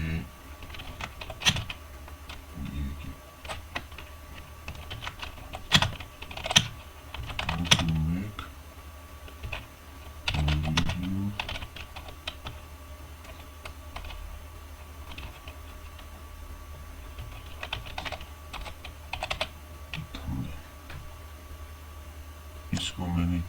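Typing on a computer keyboard while making a YouTube thumbnail, with steady irregular key clicks and occasional louder taps throughout, close and clear, beneath intermittent speech.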